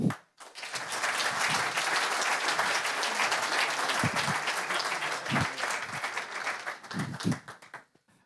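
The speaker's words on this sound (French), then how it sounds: "je vais appeler sous vos applaudissements Aimé Césaire du Rotary Fleurus Aéropole" Steady, full applause from an audience fills the room for several seconds, tapering off at the end.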